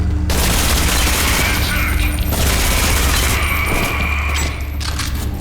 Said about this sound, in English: Filling the same slot as the assault rifle, you get the SMG.